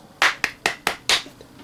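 Hands clap five times in a quick, slightly uneven rhythm, sharp and close, followed by a faint sixth tap.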